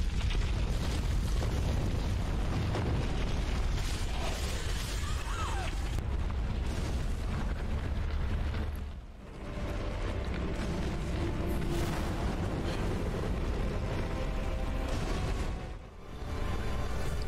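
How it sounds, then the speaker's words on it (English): Bombs explode repeatedly in Dark Souls 3, sustained rumbling booms and debris-like crackle filling the scene loudly, with two brief dips in the din. "I still don't break his rings with all these bombs."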